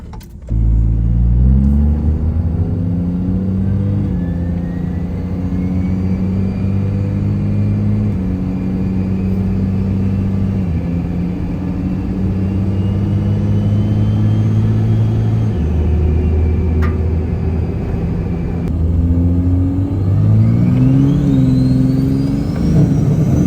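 A Cummins diesel truck engine runs at wide open throttle on a dyno, a loud, close, continuous roar that climbs in pitch, drops at each shift point and climbs again through the gears.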